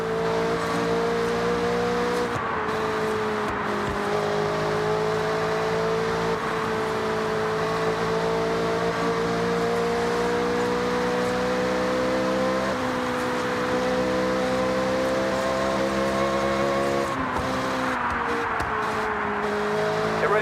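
Car engines in the racing game Forza Horizon 6, set in Japan, roar and rev steadily and loudly throughout, a sustained droning growl with shifting pitch as the cars accelerate, with no talking over it.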